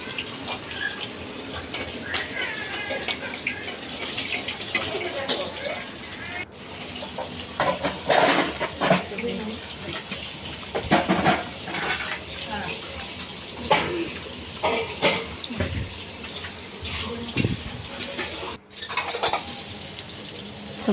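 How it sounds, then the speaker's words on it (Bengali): Water is poured into a pot of braised chicken to make gravy, splashing and running amid clinking cookware and kitchen bustle, with voices talking over it throughout. "তো মুরগির মাংসটা কষানোর পর এখন ঝোলের পানি দিয়ে দিচ্ছে।"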